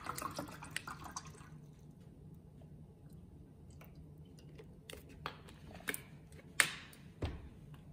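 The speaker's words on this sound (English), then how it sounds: "Let's pour some water in." Levissima natural spring water is poured from a bottle into a glass, a quiet, close splash followed by soft drips and small liquid trickles in a hushed room.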